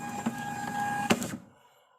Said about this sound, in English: as soon as the weight within the limit is transferred to the printer, the label is printed